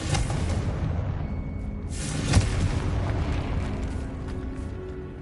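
A Confringo explosion spell goes off in Hogwarts Legacy, a low rumbling boom peaking sharply once near the middle and fading into a sustained dull roar.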